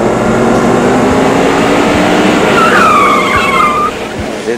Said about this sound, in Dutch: En dit is weer een leuke auto.